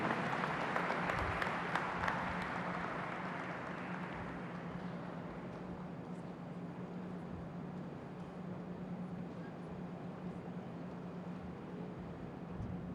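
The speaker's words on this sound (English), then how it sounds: "a round of applause to the class of 2016" Applause for the graduating class of 2016 at a university convocation ceremony in Nigeria, a large crowd clapping loudly at first and then settling into a steady, slightly softer ovation that carries on throughout.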